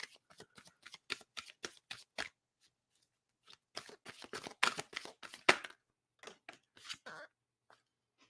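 Tarot cards shuffled by hand in quick crisp bursts of riffling flicks, two runs separated by a short pause, close and clear with no talking.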